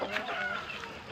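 Rhode Island laying hens cluck in a short, busy stretch of soft calls at a small backyard farm during feeding, several birds overlapping at moderate distance with a faint voice mixed in.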